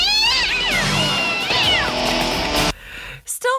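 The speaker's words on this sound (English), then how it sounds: "Croc got distracted by the fighting cats" Cats fight and yowl in a crime TV episode, loud drawn-out wavering meows and caterwauls sliding up and down for several seconds, then cutting off into a brief quieter pause with a final short cry.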